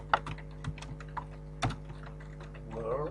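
Keystrokes clatter on a computer keyboard while a Pascal program is entered, irregular close clicks in short bursts, with a brief spoken word toward the end.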